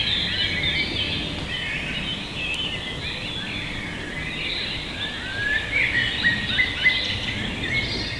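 Many woodland birds chirp and trill continuously in the Black Forest, with small calls overlapping at mid distance over a soft, steady outdoor hiss.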